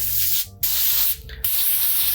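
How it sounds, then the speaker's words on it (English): Two short hissing bursts of cooking oil spray from an aerosol can, each about half a second, separated by brief pauses, close by with no talking. "So I'm gonna just give this a light spray of oil"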